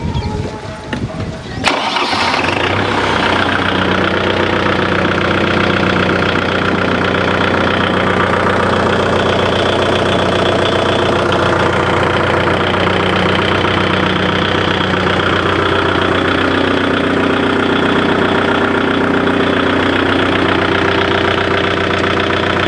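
A Kubota tractor engine starts with a brief rough burst, then settles into a loud, steady diesel idle that chugs evenly and close by for the rest of the stretch.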